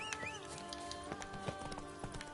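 A horse trots in The Witcher 3 with quick, even hoof clops and a brief whinny at the start, all set against a sustained tonal music background.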